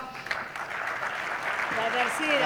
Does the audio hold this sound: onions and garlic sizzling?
no